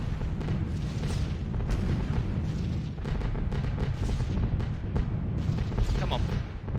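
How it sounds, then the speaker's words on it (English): Flak bursts pounding a bomber in a flight combat game, a dense, continuous barrage of heavy booms and rumbling blasts at steady loudness, with scattered sharper impacts throughout. "Let's hope we're not in this flak zone for very long."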